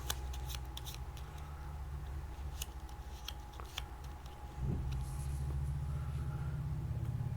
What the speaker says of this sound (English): And I shuffle the agenda deck.